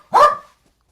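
A dog gives one loud, close, sharp bark indoors, alone with no talk over it.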